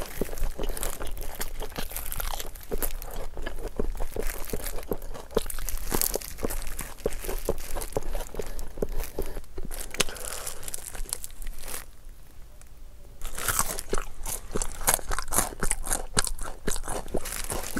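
Repeated crisp crunches and crinkling bites into a giant fish-shaped bungeoppang pastry, an irregular run of close, loud crackly chews with a brief quieter pause midway and no talk.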